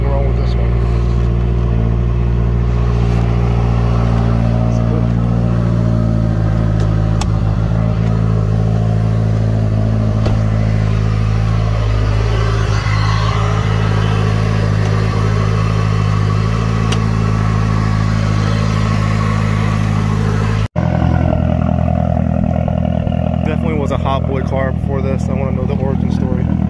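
A car's engine runs steadily at an auction, sounding rough as if something is wrong with it, with a loud continuous rumble throughout and a brief cut near the end before it resumes. People talk over it.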